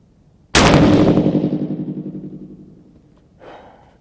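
A single loud rifle shot fires at an outdoor shooting range. It cracks sharply and then rings out in a long decaying echo, followed by a faint brief noise about three seconds later.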